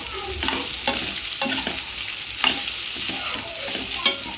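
Sabudana tapioca pearls hit a pan of softened onions and start to fry, a constant sizzle under repeated scraping strokes of a spoon stirring at a regular pace, with no voices present.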